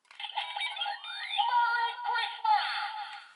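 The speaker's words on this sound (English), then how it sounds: "So those are your 2 standard Vistamp sounds, the activation and the stamping sound." Electronic sound effects from an SG Rex Vistamp toy stamp, Christmas version, a tinny, battery-powered speaker playing chirpy warbling tones and sweeping beeps for a few seconds, close and fairly quiet.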